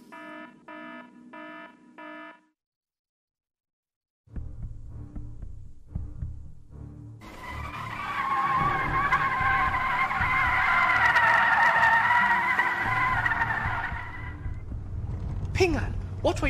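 A car skids hard and nearly hits a wall: a rising engine rumble builds into a long, loud, squealing tire skid lasting several seconds, preceded by a beeping alarm tone and a short pause.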